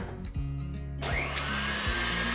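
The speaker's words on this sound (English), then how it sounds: "So always use an electric mixer" An electric mixer whips meringue for blueberry meringue clouds, a steady close whirring drone that shifts pitch and speed partway through, running continuously without talking.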